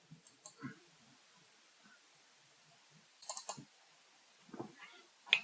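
Scattered computer mouse clicks while configuring test data software, with sharp single and paired clicks separated by quiet gaps, close and soft.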